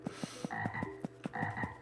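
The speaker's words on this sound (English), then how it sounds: "What a mutation in this place, a one-eyed frog." A one-eyed frog in the RPG Maker horror game Elevator Ritual croaks in short, regular pulses roughly every quarter second, with low game tones sounding underneath, close and clear and without any voices.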